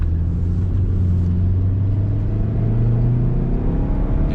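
A 200k-mile Saab 9-5 Aero driving down the road, its engine droning loud and steady from inside the cabin with a low rumble and slowly rising pitch, no voices.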